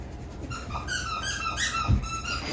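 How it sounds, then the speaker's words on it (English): A dog chewing a squeaky toy, producing a run of quick high squeaks close by, with a soft thump near the end. "my dog is going to play with her toy now."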